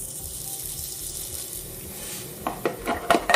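Coloured styrofoam balls fry in a pan with a steady, low bubbling hiss, and near the end a few sharp clinks and scrapes of a utensil against the pan stand out.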